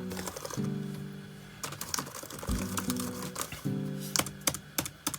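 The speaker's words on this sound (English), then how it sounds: "So let's try typing something." Fingers tap quickly on the keyboard of a cheap used laptop, irregular clicky keystrokes in bursts over a low background hum, close and clear with no talking.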